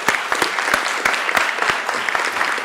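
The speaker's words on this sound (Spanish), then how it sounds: "Un aplauso para ustedes." Audience applause for news panelists at a Latin American journalism panel, with brisk, loud clapping and distinct individual claps standing out near the microphone.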